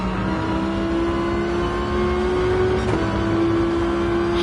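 Race car engine in GT Sport, a GR1-class race, holding a steady high whine with a brief dip around a gear change near the middle, continuous and close with no voices.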